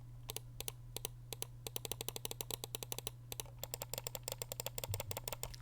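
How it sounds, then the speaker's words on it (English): Right and left button clicks on a Zowie EC3-C gaming mouse with Huano switches, a long run of crisp, close, dry clicks in irregular bursts over a low steady hum. "Right and left click."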